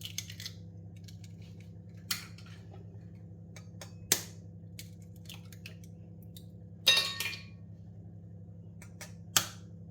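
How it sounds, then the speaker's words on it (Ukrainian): Five eggs are cracked into a pan with sweetcorn, four sharp cracks sounding a couple of seconds apart over a faint low hum in a quiet room. "Вбиваємо сюди 5 яєць."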